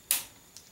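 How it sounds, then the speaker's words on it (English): A wooden dowel snaps during work on electric matches for rocket igniters, giving one sharp, close crack followed by a fainter second tick. "And I just broke the dowel."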